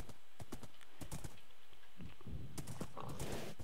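Horse hooves clip-clopping in Minecraft, a dense run of loud, close hoofbeats over steady background noise.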